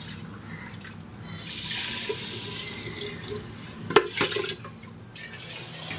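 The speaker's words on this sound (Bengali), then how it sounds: "পানিটা একদম ভরে দিব না" Water running into a clay pot for cooking khichuri, a soft hissing pour with splashy bursts and a few drips, close and fairly quiet.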